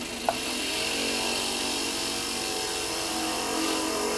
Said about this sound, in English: then I can start drilling the hole